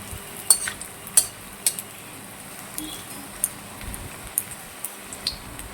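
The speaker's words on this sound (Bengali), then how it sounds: "তেলটা গরম হয়ে গেছে, আমি এক এক করে ভেজে নেব।" Soybean chunks fry a few at a time in hot oil in a home kitchen, a soft steady sizzle punctuated by light clinks and taps of a utensil against the pan.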